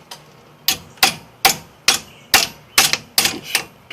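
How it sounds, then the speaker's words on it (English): A hammer taps a clamp spring onto a new brake caliper in about nine sharp metallic strikes, evenly spaced and close, with no talk. "a little help maybe from a hammer would work"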